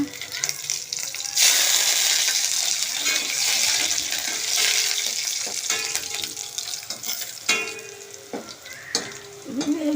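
Garlic, dried red chillies and curry leaves fry in hot oil with a loud, steady sizzle and crackle, along with stirring and some clattering, heard up close.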